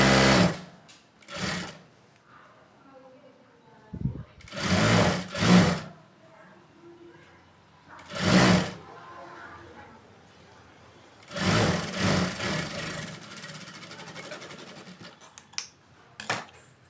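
A sewing machine stitches the back piece of an ordinary blouse in several loud bursts of running stitches, separated by quiet pauses with faint handling noises.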